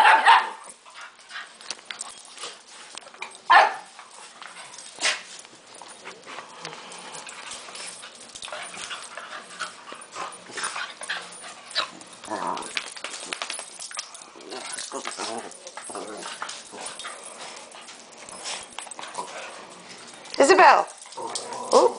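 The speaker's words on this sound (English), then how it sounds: "Look at the puppy." A puppy whimpers and yaps in short, scattered bursts at close range, mixed with people chattering and calling out throughout, plus a few sharp clinks and bumps.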